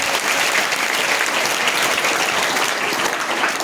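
Steady, loud applause from a school audience of students fills the space, dense clapping continuing without pause throughout.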